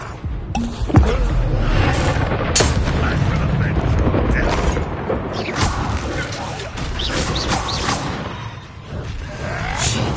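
In Hogwarts Legacy, a Confringo spell goes off with a dense, loud blast and whooshing rumble over busy game effects, while a voice talks over it.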